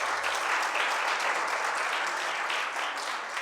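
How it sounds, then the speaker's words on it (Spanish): A church congregation claps for God during a Spanish-language sermon, steady dense applause at moderate volume that holds evenly, then tapers slightly near the end. "¿Por qué no le dan un aplauso al Señor?"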